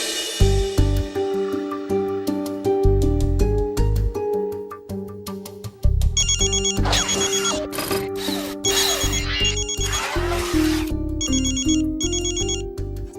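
A phone rings with a melodic electronic ringtone, a repeating synth tune with a steady beat and bright chiming phrases, loud and close, playing on without any voices.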